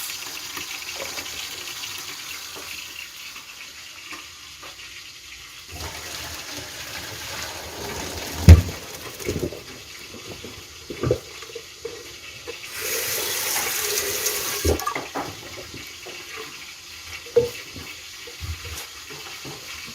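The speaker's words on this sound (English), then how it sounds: "When the rice is cooked until this extent, drain your rice." Water from cooked rice being drained, pouring and splashing in bursts over about twenty seconds, with a few sharp clatters of a pot or strainer and a louder rush of flow near the middle.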